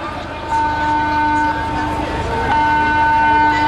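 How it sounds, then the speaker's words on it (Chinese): Steady wailing nuclear disaster alarm siren sounded during an anti-nuclear protest drill outdoors, holding a droning tone that grows slightly louder, with crowd noise underneath. "这是核灾警报的声音"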